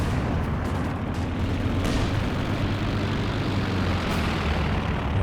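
Aircraft engine drone from a recon plane passing over a Company of Heroes 2 battlefield, a steady dense rumble mixed with distant artillery and gunfire thuds throughout, no speech.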